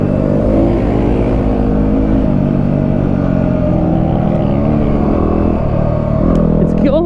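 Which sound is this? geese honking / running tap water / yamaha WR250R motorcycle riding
yamaha WR250R motorcycle riding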